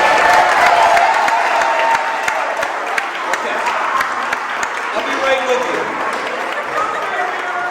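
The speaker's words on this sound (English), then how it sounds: "Give Donovan a applause." Applause and cheering from an audience at an early childhood education event, a steady wash of clapping that fades gradually while a person talks over it.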